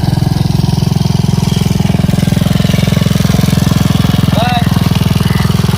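A motorcycle engine idles close by with a fast, even thumping putter that holds steady throughout; a brief voice-like squeal cuts in near the end.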